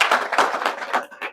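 An audience claps at a hospitality service training session, a brief burst of close, uneven hand claps lasting about a second.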